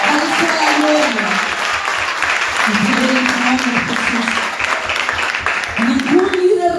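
A congregation claps in praise during a Spanish-language church service, with dense, sustained applause throughout and a voice speaking over it.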